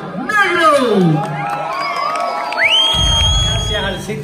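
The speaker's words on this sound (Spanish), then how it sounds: "Recibamos con un fuerte aplauso al Circo Negro" Crowd at the Festival Habana Ciudad Electrónica 2019 in Havana, Cuba, cheering and whooping loudly for the act Circo Negro, with shouts and high voices rising over a steady roar.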